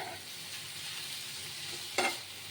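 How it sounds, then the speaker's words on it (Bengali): Fish frying in a pan with green chillies and spices, a soft steady sizzle close by with one sharp stir scrape near the end, no talking. "মাছটাও লাল লাল করে নরম হয়েছে, ভাজা হয়ে গেছে।"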